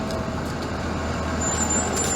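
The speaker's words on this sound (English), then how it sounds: "There goes another shuttle bus." A city shuttle bus rumbles past steadily on a Toronto street in December, its low engine drone filling the whole stretch with no one speaking.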